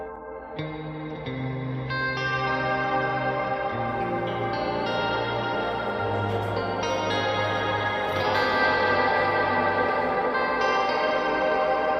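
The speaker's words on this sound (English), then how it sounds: "I just swapped the Sci-Fi Shimmer for the Dark Galaxy, and the sound is already completely different" Sustained layered synth tones run through a SpaceWalk Saturn reverb set to its Dark Galaxy algorithm, leaving a wide, washy tail weighted toward the low end. Chords shift slowly and swell under a dense, shimmering echo.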